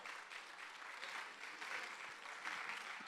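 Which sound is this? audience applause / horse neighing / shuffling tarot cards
audience applause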